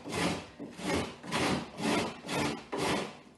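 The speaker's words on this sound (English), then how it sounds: "So this time I am using the big side of the grater" Food scraped across the coarse big side of a hand grater in six steady, even back-and-forth strokes, close and rasping, with no talking.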